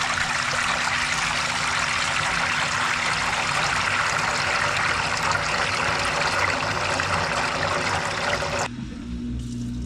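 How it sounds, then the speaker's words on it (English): A Samsung WA50R5200AW top-load washing machine drains soapy water, a steady rushing gush with a constant pump hum underneath that cuts off abruptly near the end, leaving a quieter hum. "soapy water is coming out."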